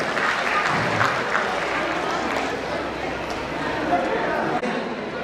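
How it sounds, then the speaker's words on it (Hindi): A crowd at a Meena Tribal Welfare Association gathering in Chandigarh claps loudly to welcome a dance performance, with a thick wash of applause mixed with background chatter and voices throughout. "जोरदार तालियों के साथ स्वागत करें।"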